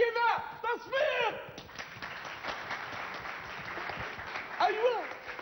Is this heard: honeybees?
no